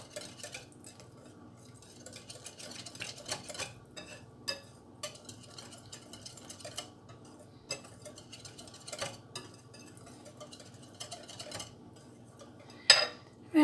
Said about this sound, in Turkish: Bunları da ekledikten sonra gene karıştırmaya devam ediyoruz.